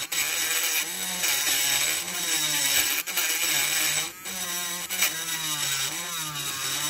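A small rotary tool grinds down the plastic window unit of a diecast model car, giving a continuous high whine that wavers in pitch as the pressure changes, close and steady, with no talking.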